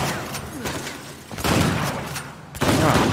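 Gunfire in the video game Uncharted 4, with a run of loud shots and sharp bursts in quick succession, heard close and alone with no talk over it.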